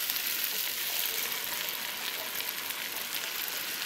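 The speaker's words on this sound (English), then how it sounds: "It fried your rice a little bit." Rice sizzles steadily in a hot pot as every grain is fried to color before pigeon peas and coconut milk go in for yellow rice; a close, continuous crackling hiss with no voices.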